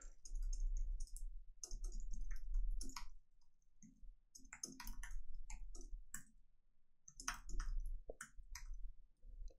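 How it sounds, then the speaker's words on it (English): A computer keyboard is typed on in close, quick bursts of clicking keystrokes separated by short pauses. "So I'm going to go ahead and type one in now."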